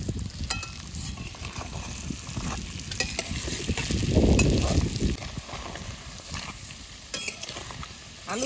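Potatoes fried lightly in oil with chilli and turmeric for a mutton curry, a steady close sizzle with stirring scrapes throughout, a louder crackling swell in the middle, and no talking.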